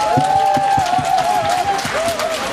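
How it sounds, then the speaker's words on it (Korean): A crowd at an outdoor political rally in Daegu applauds a professor with brisk, rhythmic clapping. A wavering tone and voices ride over the clapping. "다시 한번 힘찬 발언해 주신 최병도 교수님께 박수 부탁드립니다."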